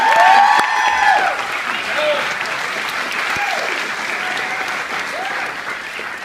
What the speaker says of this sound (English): please a big round of applause to Hunt.